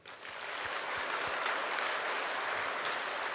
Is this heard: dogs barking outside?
no